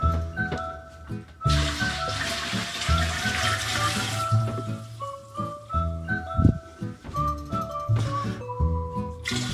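Water runs into a stainless steel Apollo Titan being filled for washing, with a rushing pour, hollow metallic ringing tones and scattered clinks over several seconds; nobody speaks.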